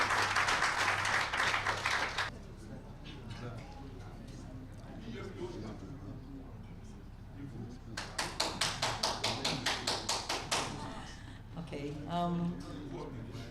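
An audience at a press event in Ghana claps for boxer Isaac Dogboe in two bursts, a loud opening burst and then a rhythmic run of claps near the end, with a lull between.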